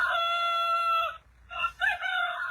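Rooster crowing loudly and close, a long drawn-out crow followed after a short pause by a few clucking calls, with no talking.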